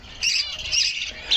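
Chickens squawking nearby while being fed clover leaves, a few harsh, high-pitched squawks and calls in quick succession, fairly close, with faint background noise.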